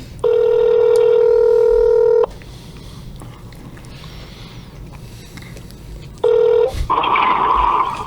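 A phone line sounds a steady electronic ring tone for about two seconds, then after a pause a second tone starts and breaks off into noisy rustling as the call connects.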